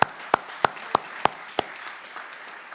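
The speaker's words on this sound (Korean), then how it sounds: "큰 영광의 박수를 한번 올려드리겠습니다" Church congregation at an Easter Sunday service claps in six sharp, evenly spaced bursts that fade into a soft, lingering room ambience.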